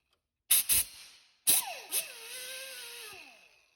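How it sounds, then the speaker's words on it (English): Short bursts of hissing spray from a can of PB Blaster penetrating oil onto nuts on a 2017 Chevrolet Tahoe, two quick puffs then a longer spray, close and sharp against quiet. "Let me spray out some PB Blaster on the two nuts that hold this thing on."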